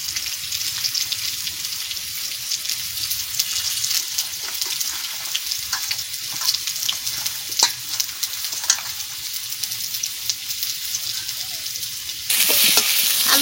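Potatoes fry in a pan with a steady crackling sizzle and repeated scraping stirs, loud and close throughout, and the hiss flares up sharply near the end.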